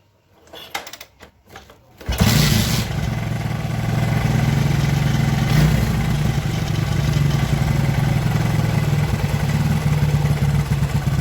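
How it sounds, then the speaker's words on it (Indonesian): A Kawasaki Kaze motorcycle is kick-started with a few uneven cranking knocks, then catches and settles into a steady, loud, buzzing idle that runs close and continuous to the end. "Kita coba, kita selah engkolnya ya, kita starter apakah sudah nyaman."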